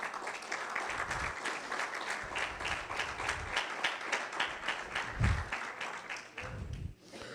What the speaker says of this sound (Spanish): Aplauda al Señor, por favor.